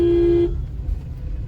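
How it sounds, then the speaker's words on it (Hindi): A single sustained car horn blares for about half a second during a driving lesson, then cuts off, leaving low road rumble and traffic noise behind. "बोले थे ना, लंबा हॉर्न देना है।"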